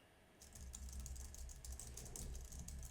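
Rapid computer keyboard typing in front of a FIFINE A6T microphone, close and fairly crisp, a continuous patter of key clicks starting after a short quiet moment.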